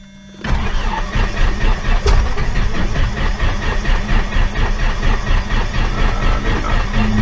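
An aircraft engine cranks on a cold morning and fails to catch: a sharp onset, then a rhythmic, loud chugging that stays even for several seconds, with no talk.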